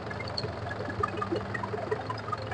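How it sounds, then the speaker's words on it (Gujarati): A Mahindra 575 tractor engine runs on fresh farmland, a steady low chugging rumble with continuous vibration and faint knocking, heard alone at moderate distance. "ચાલુ કરી દીધા છે આપણે ટ્રેક્ટર"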